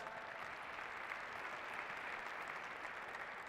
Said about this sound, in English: All right, give them a nice round of applause